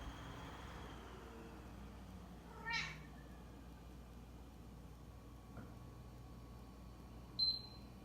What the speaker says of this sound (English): Don't mind the cat.